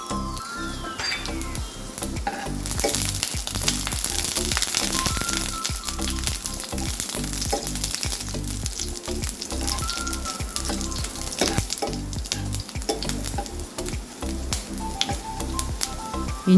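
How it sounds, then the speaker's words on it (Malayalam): Small pieces of ginger fry in hot coconut oil with a steady, close sizzle and scattered fine crackles that hold evenly throughout, with no voices. "ചെറിയ കഷ്ണം ഇഞ്ചി ഇട്ട് കൊടുക്കും."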